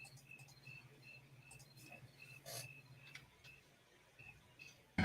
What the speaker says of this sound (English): The crickets are very impressively loud and awesome tonight.